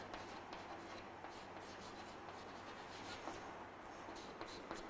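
A maths problem on matrices being written on a board: faint, continuous scratching strokes with small taps, heard quietly and with no talking.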